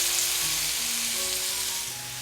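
Chopped onions sautéing in a pan for egg curry, a loud close steady sizzle that eases slightly toward the end, with no talking.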